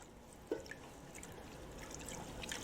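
Whole milk trickles slowly into a roux in a kitchen pan, a faint, soft continuous pour with one small splash near the start and no speech over it.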